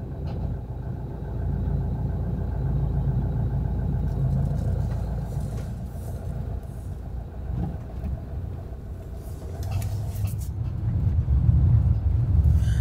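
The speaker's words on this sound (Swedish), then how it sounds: "det här är 180 hästars motorn" A McLouis motorhome with a 180 hp engine rolls over very uneven ground, giving a steady mid-level engine drone from inside the cab with rattles and creaks over the bumps and no talk.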